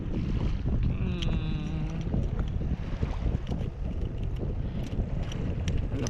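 Strong wind buffets the microphone continuously while kayak fishing on open water off Port Mansfield, Texas, a loud steady roar with faint water movement underneath.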